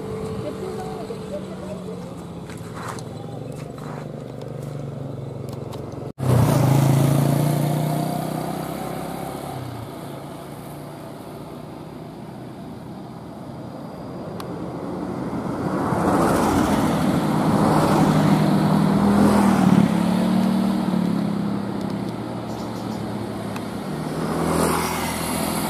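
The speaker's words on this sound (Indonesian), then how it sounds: "bis Budiman" A Budiman bus engine labors up a steep road climb, a sustained mid-distance drone that rises and surges in effort, with a sharp jolt early on and voices talking over it.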